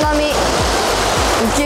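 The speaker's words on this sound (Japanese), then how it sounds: "うわお、めっちゃ波" Strong ocean waves near a bridge by the sea in Hiroshima, a loud, continuous roar of surf with rhythmic low thumps and faint background voices.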